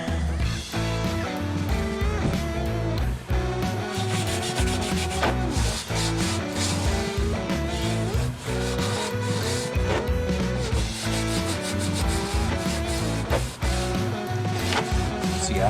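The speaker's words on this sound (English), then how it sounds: "I'm not going too crazy, just giving it a little cleaning with the Scotch-Brite." Someone scrubs a 1965 Chevy Bel Air by hand with a Scotch-Brite pad: continuous close, loud rubbing and abrasive scraping in quick back-and-forth strokes, with no talking.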